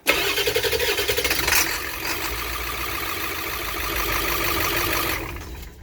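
A Ford E450 van's 7.3 diesel engine cranks with a rapid rhythmic churning for over a second, catches, and settles into a loud, steady, rough idle close by before fading.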